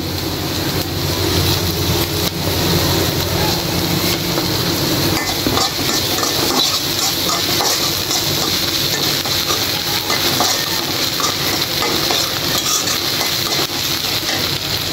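Ginger and garlic fry in a pan with a dense, continuous sizzle and hiss, loud and close, with faint clatters of stirring and no talking.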